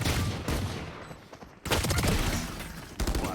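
Bursts of rapid automatic rifle fire spray in a competitive shooter match, loud dense volleys that break off briefly and resume, with a final sharp burst near the end.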